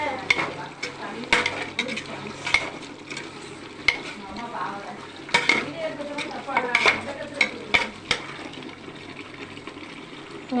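Spices and ingredients for chicken biryani sautéing in a pan, a soft continuous sizzle broken by repeated scraping stirs and clinks of the spoon, close and fairly quiet.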